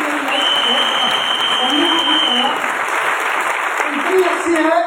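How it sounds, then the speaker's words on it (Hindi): An audience claps steadily throughout, a dense roll of applause with a voice speaking over it at moments. "मैं चाहता हूँ एक बार उसके लिए ताली बजानी चाहिए।"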